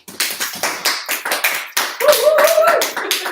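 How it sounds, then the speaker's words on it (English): A small audience claps at the start of a stand-up comedy talk, sparse separate hand claps first, then a short burst of denser clapping with a voice speaking over the end. "Thank you for the clapping."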